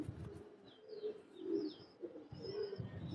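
Pigeons at a home loft coo in soft, low swelling phrases a few times, faint and close, with thin chirps from other birds scattered above.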